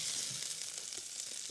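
Steak sizzles and fries in a Gotham Steel pan, a steady close hiss with small popping crackles and no voices.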